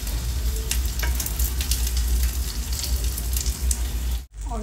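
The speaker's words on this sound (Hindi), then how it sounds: "तो इस पर हम देसी घी अच्छे से लगा के अब इसे हम पलट लेते हैं" A sweet corn cheese paratha fries in desi ghee on a hot pan, giving a steady, close crackling sizzle that cuts off abruptly near the end.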